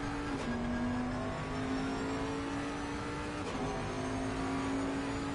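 Bentley race car engine in a sim racing game at Donington Park, a steady high-revving drone held near the limiter with two brief dips in pitch, like quick gear changes, under continuous track noise.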